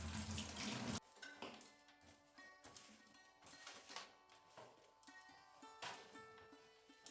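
Kitchen tap running as plastic water bottles are rinsed and filled: a burst of gushing water, then clinks, knocks and intermittent pouring and trickling close by, no talking.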